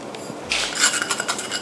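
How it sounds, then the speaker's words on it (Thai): Minced pork filling for steamed buns is stirred and mixed with seasonings in a bowl, giving close, bright clinks and scraping of a utensil against the dish in quick, irregular strokes. "หลังจากนั้นก็คลุกทุกสิ่งอย่างรวมกัน"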